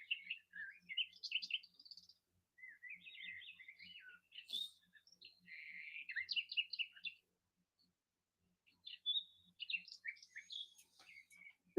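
Birdsong from a nature video played on a screen: several birds trill and warble in bursts with a short pause near the middle, faint high calls alone over a quiet, low hum.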